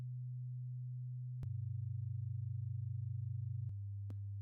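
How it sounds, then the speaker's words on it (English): Pure low sine tones play one after another, a steady hum that steps to a slightly different pitch with sharp clicks at each change, clean and isolated with no voices. "Let's listen to both sine waves independently from each other."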